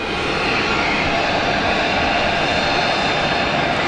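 A business jet taxis close by at Luton airport, its engines producing a loud, continuous roaring whine with broad rushing noise that holds steady for a few seconds, no speech.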